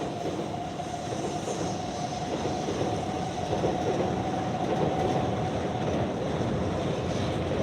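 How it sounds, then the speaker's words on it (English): A Shinkansen N700 series bullet train rolls in from Tokyo, heard as a steady, moderately loud rumble with a faint sustained whine running above it for several seconds. "There's the N700 series rolling in from Tokyo."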